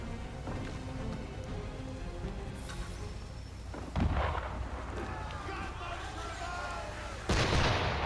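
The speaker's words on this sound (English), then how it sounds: "Why is he shooting at us?" Gunfire in Assassin's Creed 3 cracks out twice, a heavy shot partway through and another near the end, over a dense outdoor game ambience with voices faintly underneath.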